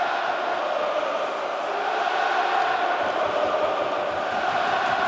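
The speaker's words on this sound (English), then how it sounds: "And the crowd gets on Mackenzie Blackwood" A large hockey arena crowd at a Colorado versus Montreal game roars and jeers at goalie Mackenzie Blackwood, a dense, steady wash of many voices that fills the whole stretch, loud but distant and blended.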